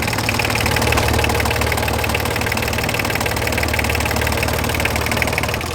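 A boat engine idles with its seawater pump cooling it and water leaving with the exhaust, a loud, steady mechanical drone with a fast knocking pulse that holds constant throughout, with no talking.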